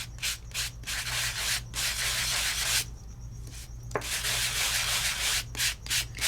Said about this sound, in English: And you can see it sanding to white.